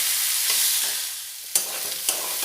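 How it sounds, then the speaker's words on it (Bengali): Banana flower and potato fry together in a pan, with a continuous bright sizzle broken by a couple of sharp scraping stirs, heard close and alone. "এবার মোচাটাও আলুটার সাথে খুব ভালোভাবে ভেজে নেব।"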